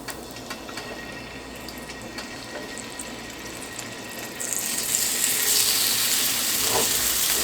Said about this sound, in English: Put a little olive oil in here. So we need some to sear this up.